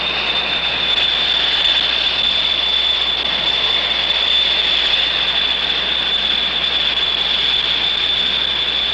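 A jet aircraft engine runs steadily, a loud continuous roar topped by a sharp high-pitched whine, unchanging and close, with no voices.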